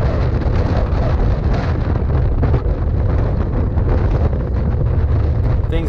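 Heavy headwind buffets the microphone during a criterium bicycle race in Japan, a loud continuous low rumbling roar with no break and no clear talking.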